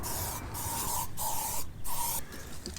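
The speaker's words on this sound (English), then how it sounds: "Bug spray, very important." Bug spray hisses from an aerosol can outdoors on a bush walk in about four or five short, close bursts separated by brief pauses, fairly quiet and with no voices.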